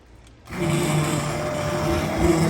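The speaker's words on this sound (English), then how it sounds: "this is the hand blender, we are going to now grind this the spinach" A hand blender starts up after a brief quiet moment and grinds spinach, a steady close motor whir that strengthens slightly near the end, with no talking.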